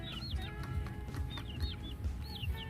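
Several broiler chickens cluck and chirp nearby in a loose, overlapping chatter, with soft scuffling and low background noise.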